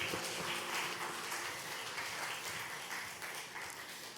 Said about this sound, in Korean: 우리에게 구원을 허락하신 우리 하나님 앞에 감사의 박수를 올려드리겠습니다